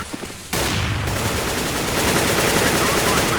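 Sustained automatic gunfire from a Counter-Strike match between Navi and Cloud9, a dense loud burst that starts abruptly after a brief quieter moment and rattles on steadily, with faint voices mixed in.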